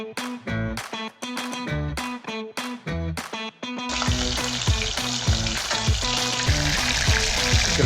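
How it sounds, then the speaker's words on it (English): Cubes of crocodile meat go into a pan with butter. Some clipped knocks and clatter come first, then a loud, steady sizzle and spitting fry takes over and continues to the end. "Gonna toss this on a little pan sear and some butter."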